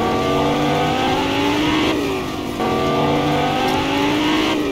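Car engine in Fortnite revving steadily with rising and falling pitch, loud and continuous, with a brief dip midway as if shifting or easing off the throttle.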